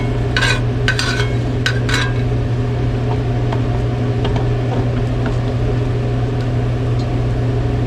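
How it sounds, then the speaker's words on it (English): Spices are stirred through breakfast burrito filling frying in a pan, with a few short scraping strokes near the start over a steady, even sizzle and hum that continues throughout. "Mix things up a little more. Get those spices distributed."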